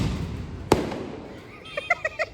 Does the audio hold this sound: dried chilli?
no